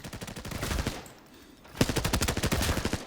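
Close-range automatic gunfire from a Russian-chambered weapon in the shooter game Arena Breakout Infinite, loud rapid bursts before and after a brief pause, with no talking.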